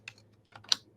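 Keys on a computer keyboard clack in a few sparse, quiet taps, up close in an otherwise silent room.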